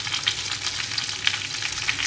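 Cumin seeds and bay leaf dropped into hot oil already used for frying prawns, sizzling with a steady bright crackle and small popping spits, close up.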